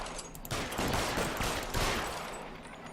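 Dense gunfire rattles in the 1940s crime video game L.A. Noire, a rapid fusillade of overlapping shots that rolls steadily for about three seconds at fairly close range.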